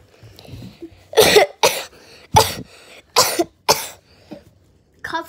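Six or seven harsh, forceful coughs come in quick bursts, close and loud, separated by short pauses with faint background sounds.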